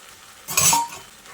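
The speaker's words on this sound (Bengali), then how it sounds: "এবার আমি ভেজে রাখা পটলগুলো এর মধ্যে দিয়ে দিচ্ছি" Fried pointed gourds tipped into a pan of cooked-down masala make one brief clattering scrape and rattle in the middle of an otherwise quiet moment.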